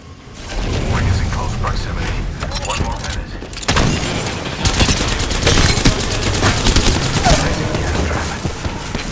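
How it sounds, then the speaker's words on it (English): Rapid bursts of automatic gunfire and explosive booms in the video game Destiny, loud and dense throughout, with a voice talking over the firefight. "Getting shot at."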